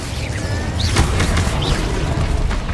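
In Hogwarts Legacy on PS5, the Incendio fire spell bursts with a loud booming whoosh, its fiery roar layered over rumbling combat effects and sharp magical cracks in a continuous, dense battle soundscape.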